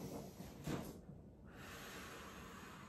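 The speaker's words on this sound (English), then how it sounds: "And then again, I'll breathe in through my nose." A slow inhale through the nose during a seniors' lumbar spine workout, a soft airy breath rising and then fading into quiet room noise, close and faint.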